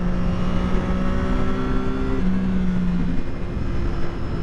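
A 2012 Triumph Daytona 675 motorcycle pulls away, with a steady close engine note holding and then dropping in pitch twice as it shifts, loud over road and wind rush.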